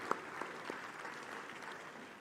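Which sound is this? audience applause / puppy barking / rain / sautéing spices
audience applause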